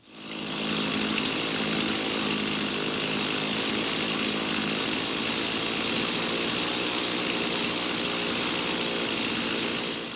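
A Stihl 391 chainsaw runs at high speed with a steady, loud buzzing drone, holding a constant pitch for about ten seconds after a quick start, with no talking.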